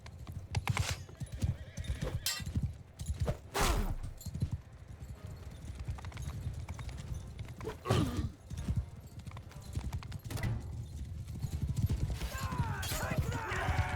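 Horses gallop and whinny during a cavalry battle in Mount & Blade II: Bannerlord, with rapid hoofbeats running throughout, sharp neighs rising over them, and impact clatter; someone speaks briefly between the sounds.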